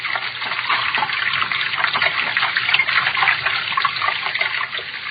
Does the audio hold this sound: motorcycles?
no